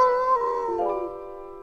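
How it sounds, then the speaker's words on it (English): A lone wolf howls in a song, one long sustained wavering cry that bends downward near the middle, upper partials stacked over it, sitting moderately loud and clear with musical backing. "and a lonely wolf is howling at the moon"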